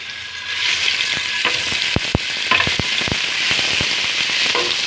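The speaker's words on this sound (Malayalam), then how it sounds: "എണ്ണയ്ക്കകത്തേക്ക് നമുക്കൊരു 1/2 ടീസ്പൂണ് ഇഞ്ചി വെളുത്തുള്ളി പേസ്റ്റ് ഇട്ട് കൊടുക്കാം." Ginger garlic paste frying in hot oil in a pan, a steady loud sizzle with a scattering of sharp crackles and pops, close up and with no talking.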